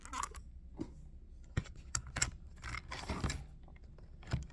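Someone types on a computer keyboard in scattered, irregular bursts of sharp clicks and clacks, close and fairly quiet, with short pauses between keystrokes.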